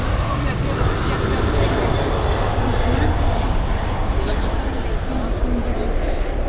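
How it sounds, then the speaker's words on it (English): A Boeing 747 at Manchester Airport produces a steady, broad engine roar that stays loud and even throughout, with someone talking over it. "A Boeing 747."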